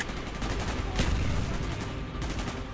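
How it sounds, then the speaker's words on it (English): Rapid bursts of gunfire in Call of Duty: Black Ops (2010) crackle continuously, loud and dense, with automatic weapons firing over a steady rumble. "Gunfire's drawing attention."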